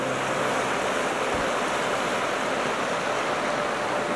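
Creek current running strong along the shore somewhere in Labrador's wilderness, a steady broadband rush of flowing water with no break, fairly close and even in level.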